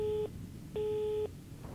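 Telephone busy signal inside the video game Rise of Insanity: two steady, fairly loud tone bursts about half a second each, separated by a half-second gap, with no voices.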